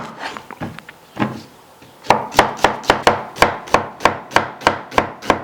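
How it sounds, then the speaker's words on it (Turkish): Knife chops onions on a cutting board, first a few uneven taps, then a quick steady run of crisp, close cuts about three per second. "2 adet soğanımızı yemeklik doğrayarak başlıyoruz"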